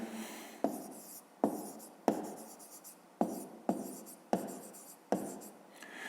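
Handwriting with a pen on paper while working a fifth-grade maths exercise, close and quiet, with about eight short bursts of scratching strokes separated by brief pauses.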